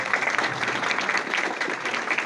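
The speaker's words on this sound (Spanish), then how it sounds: "Fuertes aplausos." An audience at a university human rights gathering applauds a speaker, producing a steady wash of clapping from many hands. The applause stays even and sustained throughout, heard fairly close with a roomy quality.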